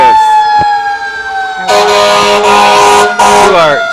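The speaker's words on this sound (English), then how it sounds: "It's really loud here with all these sirens." Loud emergency vehicle sirens and truck air horns blaring close by at a Christmas parade in Ocala, Marion County, with steady wailing tones that swell into a dense, overlapping blast of horns midway, while people talk underneath.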